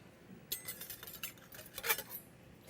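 A knife slices through a beet on a cutting surface, giving a few brief, faint clicks and taps with a sharper knock near the end, in an otherwise quiet kitchen.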